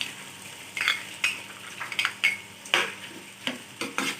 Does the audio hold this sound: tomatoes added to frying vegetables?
yes